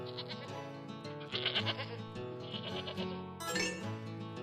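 A goat bleats in wavering, nasal cries, with a louder, higher call near the end, close by and alone.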